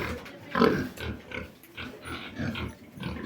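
Large, strong three-breed-cross pigs grunting and snuffling close by in a series of low, irregular grunts, with no talk.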